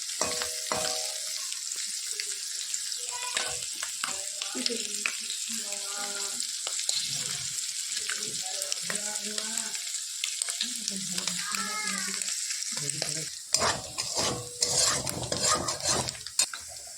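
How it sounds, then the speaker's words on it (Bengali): Prawns frying in oil in a pan for a bottle gourd and prawn curry, with continuous soft sizzling, frequent stirring scrapes and clinks of a utensil against the pan, louder clatter toward the end. "চিংড়ি মাছগুলো ভেজে নিচ্ছি সুন্দর করে"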